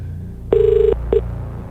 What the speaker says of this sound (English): Oh, Andy's phone's ringing